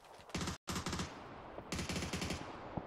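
Bursts of automatic gunfire in a shooter video game, two rapid rattling volleys separated by a short silence, loud and close with crisp repeated shots and no talking.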